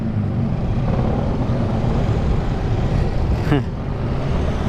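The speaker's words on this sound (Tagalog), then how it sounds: "Lakas talaga yung mga motor." Motorcycle engines rumble steadily at a drag race, a continuous broadband roar with one brief rising rev sweep near the end, fairly close.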